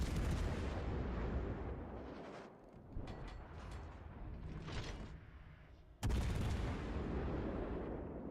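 A warship's main battery guns fire in World of Warships Legends, heavy booming blasts with a sharp loud salvo near the end, set against a continuous rumbling engine and sea bed.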